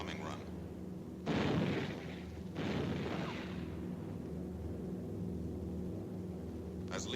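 Flak bursting around a B-17 Flying Fortress bomber on a wartime bombing run, heard as two heavy, loud blasts early on over a steady roar of aircraft engines that continues throughout.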